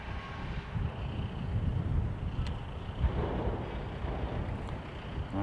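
Wind gusting across an open stadium construction site during the Anfield Road stand expansion at Liverpool's Anfield, a steady low rumbling buffet on the microphone that swells and eases throughout, with no talk.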